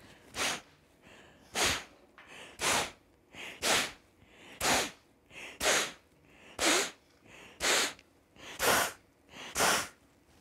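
Kapalabhati yoga breathing: ten sharp, forceful nasal exhales in a steady rhythm about one per second, close and fairly loud, with quiet pauses between each puff.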